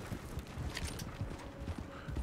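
Horse hoofbeats in Red Dead Redemption 2: a steady, moderately close clip-clop gallop of several horses being pushed hard, running throughout at low loudness.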